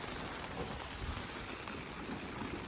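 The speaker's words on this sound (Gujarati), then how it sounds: "વરસાદ પણ બહુ આવે છે" Steady rain falls outdoors as someone sets out to cook, a soft, even hiss of drops spreading across the whole clip with no voices and no break in the patter.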